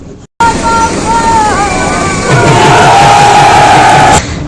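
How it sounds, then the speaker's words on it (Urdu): Election rally crowd in Haripur chanting slogans for a candidate to drum beats, a loud dense roar of massed voices with a sustained rising tone, close and continuous, cut off abruptly at both ends. "ڈھول کی تھاپ پر رقص کرتے ہوئے جہانزیب خان کے حق میں نعرے بازی بھی کرتے رہے"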